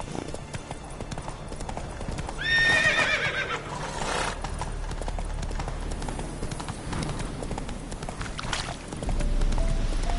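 Geralt's horse Roach in The Witcher 3 gives a sharp whinny, then hooves clip-clop at a steady trotting rhythm, close and clear over a low ambient game background.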